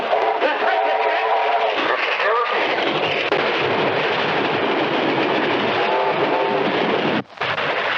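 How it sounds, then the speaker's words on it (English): A train rumbles past continuously with loud, steady rolling noise and metallic squeals, close and dominating throughout. "Top train about to come by."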